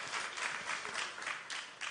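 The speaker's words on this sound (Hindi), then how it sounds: "अगर ऐसा नहीं है तो फिर तालियां जोरदार होनी चाहिए प्लीज," A large audience at a political gathering in India applauds, a steady wash of clapping heard at a distance and fairly faint, with no voices.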